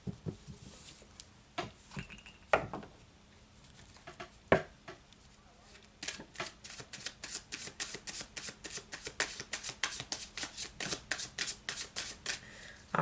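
Tarot cards being shuffled by hand, a rapid run of crisp riffling flicks and slaps that grows into steady, evenly paced snaps in the second half, close and clear with no talking.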